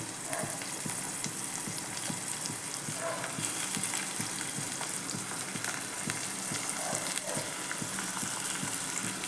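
Steady oil sizzle from a pan on a stove at high flame while making soya chunk (meal maker) curry, continuous and close with faint stirring clicks throughout.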